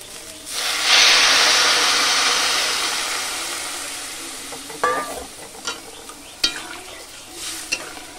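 Water poured into a pan of frying dal sets off a loud burst of hissing steam that slowly fades, followed by a few sharp utensil clinks against the pan, no talking.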